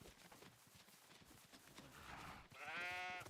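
Faint video game sheep bleating amid busy background noise, with a clearer drawn-out bleat near the end.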